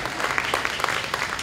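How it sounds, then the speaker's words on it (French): Audience applause at the 16th Women's March event in Clarence-Rockland, a dense steady patter of clapping lasting a moment, with a faint voice underneath. "Oui, on les applaudit."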